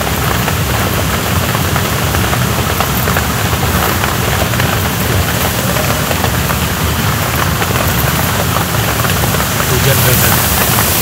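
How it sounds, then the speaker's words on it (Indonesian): Heavy, steady rain pours down outside a tent during a downpour, a dense, loud roar of drops hitting surfaces, continuous throughout and close by. "Hujan brother."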